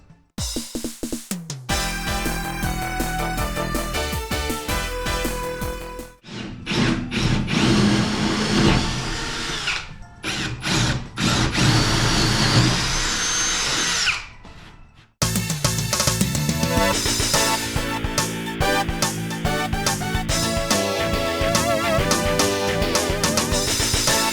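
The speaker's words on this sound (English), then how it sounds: "So we just cut out the splitter blade" A power tool cutting out a DIY aero splitter blade for a Honda, loud and continuous with whining, grinding bursts, a few brief pauses and restarts.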